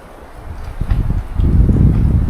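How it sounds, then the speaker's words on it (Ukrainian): Strong wind on a riverbank buffets the microphone in low, roaring gusts that grow louder and more sustained toward the end. "Дуже вітряна погода"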